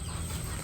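Chickens clucking close by as they are shooed away, a short burst of fowl sounds set against a dense, steady noisy background.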